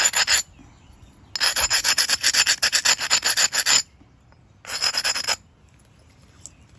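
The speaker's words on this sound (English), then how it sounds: "I'll go ahead and grind down. Get a little lateral grind." Edge grinding on an Adena knife sounds as quick, bright rasping strokes, in a short burst, then a long rhythmic run of about a dozen passes, then another brief flurry, with quiet gaps between.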